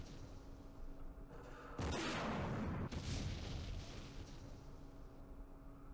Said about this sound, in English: All the gunfire.